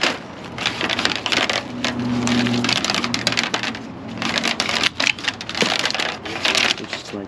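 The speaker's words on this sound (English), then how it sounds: "So we'll peel the sticker and pull it." A sticker is peeled off a Retrax Pro XR tonneau cover part during installation on a Ram 3500 with an 8-foot box, giving close, steady crackling and rustling with scattered sharp clicks, with a faint voice murmuring briefly underneath.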